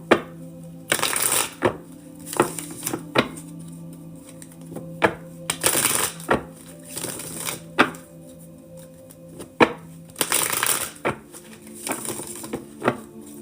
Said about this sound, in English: Shuffling for Bree at this time.